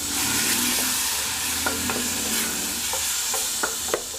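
Onion and tomato paste sautéing in a pan gives a steady, close frying sizzle, with a spoon scraping and stirring in a few light clicks and no talking.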